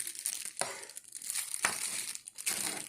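Close, crisp crinkling of a cheap, lightweight plastic packaging bag as it is pulled off a Grunhelm GR-227 rechargeable flashlight, in several scrunching bursts with no talking.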